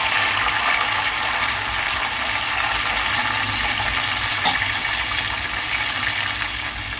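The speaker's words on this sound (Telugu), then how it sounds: "ఇప్పుడు ఒక గ్లాసు రవ్వకి 2 గ్లాసులు వాటర్ పోసుకోవాలండి." Water pours into a pan for rice rava upma in a continuous bright hiss and splash, steady and close from start to finish with no talk.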